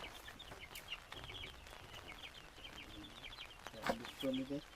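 Free-range chickens cluck and chatter in the background on a farm, with faint voices underneath and a louder bird call near the end.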